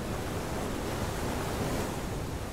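A waterfall in the video game FAR: Changing Tides gives a steady, dense rush of falling water, broad and constant like roaring surf, with no speech.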